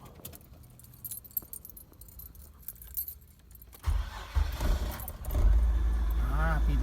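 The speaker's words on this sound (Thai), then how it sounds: "คราวนี้ลองสตาร์ทรถดูครับ" Keys jingle faintly, then a car engine with a worn, weak battery cranks and catches, settling into a loud steady idle with a voice speaking over it.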